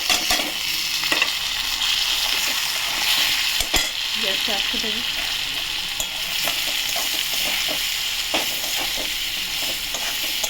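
Tomatoes, green chillies, turmeric, coriander and cumin powders and dried chillies fry in a pan with a loud, steady sizzle and frequent spatula scrapes, and a voice speaks briefly over it.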